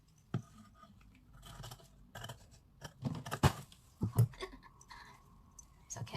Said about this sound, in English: now I'm going to cut. Just cut accordingly